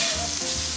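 Andouille sausage browns in a hot pan with a dense, steady sizzle and crackle, close and loud, with faint stirring beneath and no voices.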